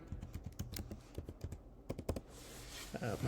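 Keys clatter on a computer keyboard as an owner ID and password are typed in an irregular burst of close clicks, trailing into a soft rustle.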